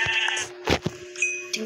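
Minecraft sheep bleat several times in close succession, short wavering calls standing out over a steady background hum.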